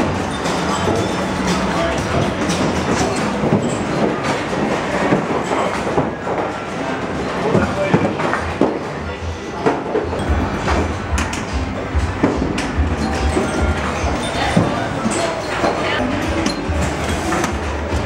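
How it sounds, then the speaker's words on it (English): A New Jersey subway train rumbles along loudly and continuously, wheels clattering over the rails with a steady roar and occasional rattles. "Subway"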